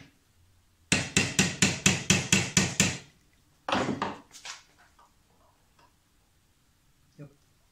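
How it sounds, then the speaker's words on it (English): A hammer taps a shim on an air-cooled Porsche 911's 915 gearbox: a quick, evenly spaced run of about eight sharp metallic knocks, a short pause, then a few more close, clear strikes before quiet. "I'm going to keep tapping and keep checking on the shim"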